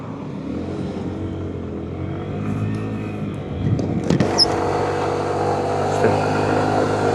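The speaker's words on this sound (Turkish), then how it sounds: "gaz yaptım. Yokuş çıkıyorum. Hemen 50-53 diye yükseliyor bakın motor arkadaşlar." A Yuki Vampire 125cc scooter with 19,000 km on it accelerates uphill, its engine droning loud and steady and rising in pitch as the throttle opens, with wind noise and a few clicks and rattles.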